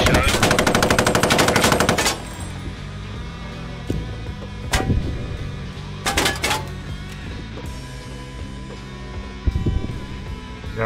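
Machine gun fire in the WWII shooter Post Scriptum: a dense, loud automatic burst for the first two seconds, then scattered single shots and short bursts at a distance over a low rumble of battle.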